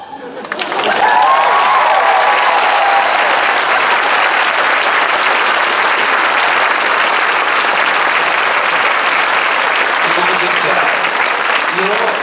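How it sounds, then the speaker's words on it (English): A large convention crowd at a Mark Hamill panel during Star Wars Celebration breaks into loud, sustained applause with scattered cheers, starting abruptly and holding as a dense roar of clapping throughout. "You're all applauding the fact that that was cut from the final print."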